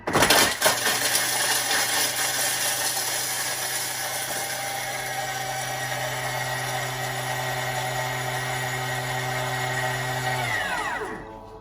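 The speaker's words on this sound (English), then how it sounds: "that's just going to grate that cheese right up" Food processor grating cheese at speed 9: a loud, steady motor whine with a strong hum runs continuously for about ten seconds, then spins down and stops.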